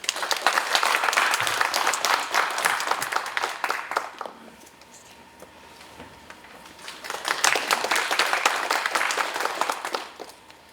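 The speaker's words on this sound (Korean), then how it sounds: "뜨거운 박수로 모시겠습니다." A conference audience claps to welcome a speaker: a loud burst of many hands that fades out around the middle, a brief lull, then a second strong round of applause that tapers off at the end.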